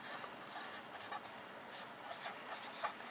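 Chalk or marker scratching and rubbing on a board while working through a high-school math exam problem, faint bursts of strokes in an uneven rhythm, close and quiet with no talking.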